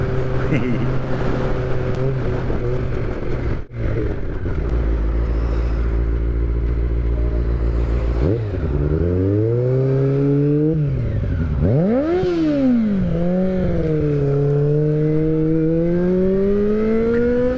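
Motorcycle being ridden, its engine loud and close with a steady drone that then revs up and down repeatedly, pitch sweeping through gear changes, with a brief clatter early on.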